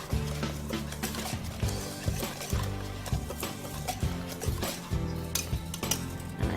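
Wet ingredients dumped into dry ones for lemon bars and mixed in a bowl, with repeated clinks and scrapes of utensil against the bowl in a steady, close rhythm.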